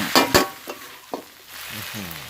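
Pork pad see ew noodles stir-frying in a pan, with a few sharp scrapes and clanks of the spatula at the start, then a steady sizzle underneath.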